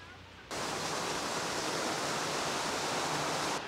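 Sojeongbang waterfall in Jeju roars steadily, a dense, unbroken rush of falling water that starts abruptly and holds at an even level.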